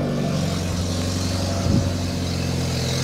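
A modified BMW B48 four-cylinder turbo engine running steadily at idle right after its first start, a close, even mechanical hum with a brief rise partway through.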